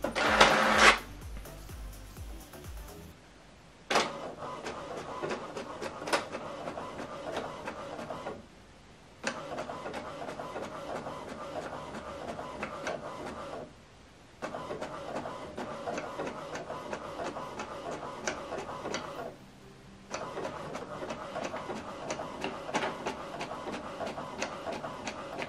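An HP Deskjet 3772 inkjet printer prints a two-page document: a brief whir at the start, then repeated stretches of mechanical clicking and carriage shuttling, broken by short pauses, near and moderately quiet.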